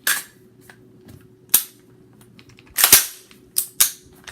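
Metallic clicks and clacks as the bolt of a Smith and Wesson Sport 2 AR-15 rifle is slid into place, a few sharp separate impacts over a quiet background with no talking.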